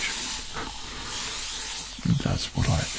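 Gentle, steady hiss of a spray bottle misting close to the microphone, running continuously with soft fizzing, and a couple of brief louder bursts near the end.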